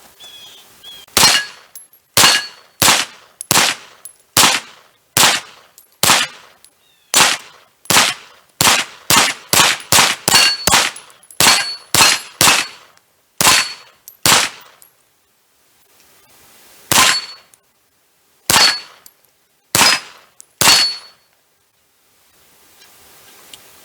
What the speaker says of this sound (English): So let's take some shots with this and see how these primers roll on this.